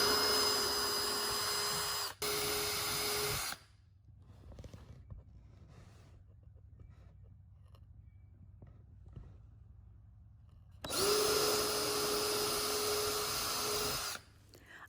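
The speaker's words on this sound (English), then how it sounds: "here you can see I'm pre-drilling where I want my handles to go" A power drill pre-drilling wood whines loudly in two short bursts, steady high-pitched spinning, with a quiet stretch of faint shuffling between them.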